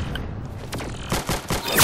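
Several gunshots ring out in a video game firefight, a quick cluster of sharp cracks growing louder toward the end over a steady background hum.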